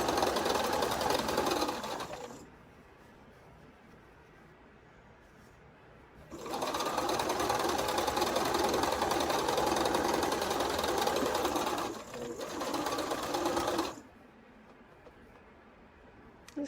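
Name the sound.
sewing machine stitching quilt pieces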